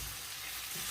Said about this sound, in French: Donc je vais faire frire ma viande fumée en même temps